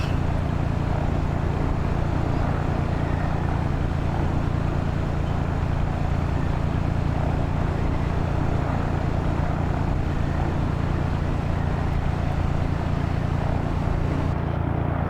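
Piper J3 Cub light aircraft engine in Microsoft Flight Simulator X, a steady droning propeller hum holding at one level throughout, loud and continuous with no voices.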